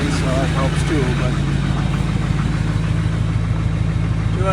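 A 2006 Chevrolet 2500HD with the LBZ Duramax diesel idles steadily right after a cold start at -6°F, a loud low rumble with a pulsing rhythm that runs throughout, and faint bits of talk are mixed in.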